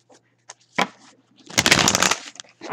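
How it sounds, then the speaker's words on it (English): Tarot cards being shuffled close up, a few quick riffling bursts with a longer flurry in the middle, no talking. "Get some good shuffles in here."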